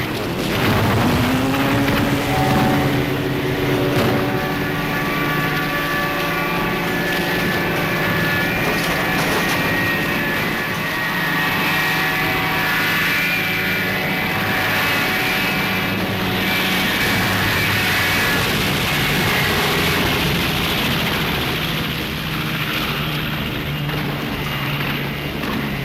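Droning aircraft engines in flight in a WWII film, a loud, continuous wind-swept roar with sustained tonal hum and no break across the whole stretch.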